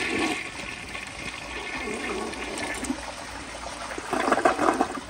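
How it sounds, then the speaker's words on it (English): A 1984 round-bowl Lamosa Atlas toilet flushes, a steady close rush and gurgle of water throughout, growing louder and more turbulent toward the end. "So here is another flush."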